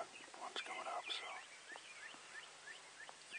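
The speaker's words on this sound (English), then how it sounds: "We already got a whole bunch of gobbling ones coming up" Wild turkeys gobble in Wisconsin woods at dawn, a burst of rolling gobbles from a distance followed by quieter calls and birdsong, with faint whispering voices nearby.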